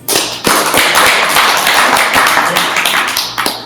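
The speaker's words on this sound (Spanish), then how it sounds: "Muy bien, un fuerte aplauso." An audience at a school oratory session breaks into loud applause after a speaker finishes, a few sharp opening claps swelling into a thick, steady burst of clapping that tapers slightly toward the end.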